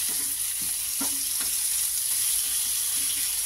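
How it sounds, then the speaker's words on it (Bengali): Onions and chicken fry in a pan with a constant close hiss of sizzling oil, punctuated by a few light taps and scrapes of stirring; nobody speaks. "এবারে ওই পেঁয়াজটা আর একটু ভেজে নিই।"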